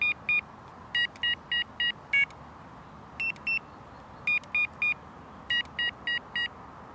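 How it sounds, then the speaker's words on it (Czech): Mivardi M1350 wireless bite alarm receiver emitting short, clear electronic beep tones in quick groups of three to five, each sounding slightly different in pitch as the tone setting is changed, with faint background hiss between groups. "Pomocí tlačítka T měníme na příposlechu tón."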